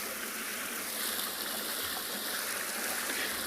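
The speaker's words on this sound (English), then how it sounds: "in case you can hear the running water" Running water at a dam at Chitwa in South Africa makes a steady, soft rushing hiss with no breaks, moderately distant and unaccompanied by voices.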